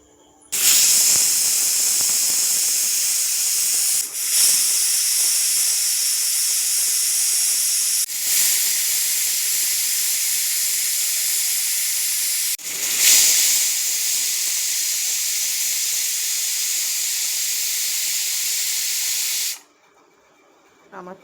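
A pressure cooker cooking peas for ghugni lets out loud, sustained steam whistles, broken by three brief dips and ending abruptly into near silence.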